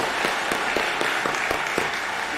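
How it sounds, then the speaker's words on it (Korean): A church congregation at Jangseungpo Church claps together in a steady, dense wash of applause, with faintly rhythmic beats running through it for the whole stretch and no voices on top. "또 박수 한번 하겠습니다."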